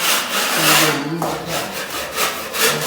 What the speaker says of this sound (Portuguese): Ó, já estão lixando o teto e o chão também